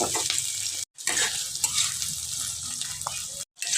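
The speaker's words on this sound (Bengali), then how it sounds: "এখন পেঁয়াজ শুদ্ধ আলুটাকে আমি লাল করে ভেজে নেব" Boiled potatoes frying with onions in a pan, a loud, close, continuous sizzle with stirring, broken by two brief cuts to silence.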